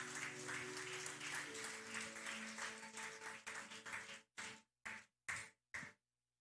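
A church congregation applauds together after prayer, a dense sustained burst that thins out over the last seconds into a few separate clustered claps before stopping.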